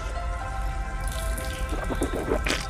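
Water running and splashing while hands are washed for wudu, a steady tap stream with light drips and splashes, close and continuous.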